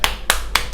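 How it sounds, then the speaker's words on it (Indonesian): Four sharp hand claps at an even, quick rhythm, close and distinct with short quiet gaps between them, heard alone. "Tepuk tangan."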